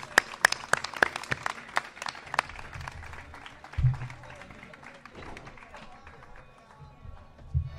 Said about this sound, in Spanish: Un aplauso para Oti y para Loli García.